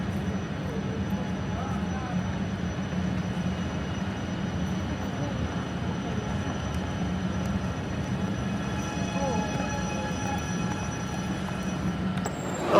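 A train at Roma Termini station in Rome, Italy, gives off a steady, continuous rumble and hum, with murmuring voices in the background throughout.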